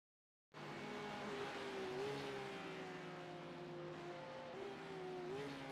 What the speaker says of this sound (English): GT3 leaders just going past again